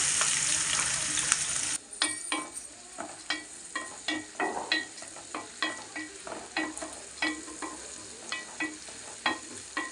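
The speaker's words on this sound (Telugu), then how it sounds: "ఉల్లిపాయ ఎండు రొయ్యలు వేసేస్తున్నాను" Dried prawns and onions frying in a pan: a loud hiss as they go in, then a bright sizzle with a regular run of stirring scrapes, close and alone.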